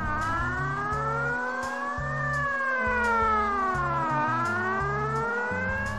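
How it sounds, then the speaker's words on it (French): A loud French industrial accident alert siren wails continuously, its pitch sweeping slowly up and down over a rhythmic pulsing tone, with no voices present. "C'est une sirène qui a une tonalité vraiment spécifique, c'est une tonalité montante et descendante"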